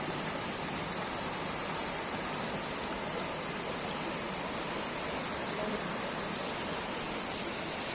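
A small waterfall in a green hillside area among tall deodar trees gives a steady, dense rush of falling water that fills the whole clip evenly, with no voices.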